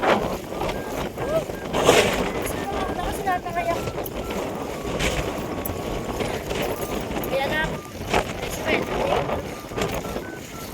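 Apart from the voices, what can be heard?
strong typhoon wind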